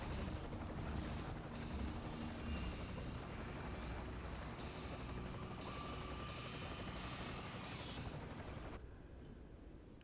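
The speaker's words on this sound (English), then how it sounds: "I just turned my tank on for the first time in the entire game." A tank engine runs in a Call of Duty video game as a steady, heavy rumbling drone that holds level and then thins out near the end.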